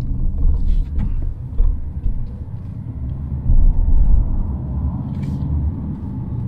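Jetour Dashing crossover with a 190-horsepower engine cruising briskly on a public road, heard as a steady, loud low rumble of engine and tyre noise from inside the cabin, with slight swells in level.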